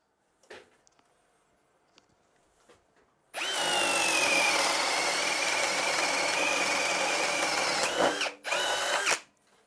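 A Ryobi R18PD7 18V cordless drill fitted with a 4 Ah battery bores a 25 mm hole in wood, with a sharp, loud, steady whine for about five seconds, a brief dip, then a short final burst, after faint clicks.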